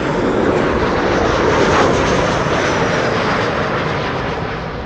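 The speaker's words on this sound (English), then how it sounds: "737-900 coming in from Oslo." KLM SkyTeam Boeing 737-900 airliner arriving at Amsterdam Schiphol on approach from Oslo, a loud, steady jet roar that holds near and full for the whole stretch, fading only slightly at the end.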